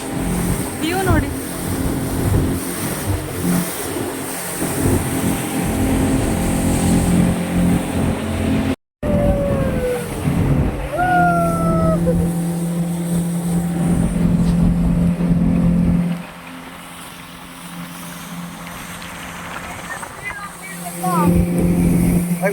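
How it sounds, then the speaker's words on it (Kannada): A speedboat runs across open water on a foggy morning in Wayanad, its engine a loud, steady drone that holds throughout and eases in level near the end, with people talking over it. "ಸ್ಪೀಡ್ ಬೋಟಲ್ಲಿ"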